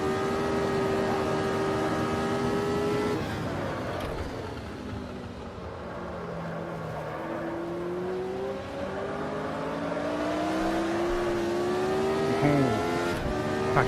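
A Formula Retro race car in a racing game at a 1988 Montreal circuit, its engine droning loud and steady with rising and falling pitch as it slides through a corner and accelerates out.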